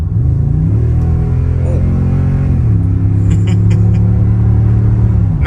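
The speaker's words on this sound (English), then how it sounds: "Entering the freeway, give her a little gas." A truck engine accelerates onto a freeway, a loud, steady low rumble whose harmonics climb in pitch, dip at a gear change near the midpoint, then climb again, with road noise throughout.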